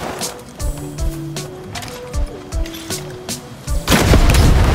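An anti-aircraft cannon destroyed amid gunfire in the Far Cry 6 video game: a run of sharp, rhythmic booming shots leads into a loud, sustained roaring blast at the end.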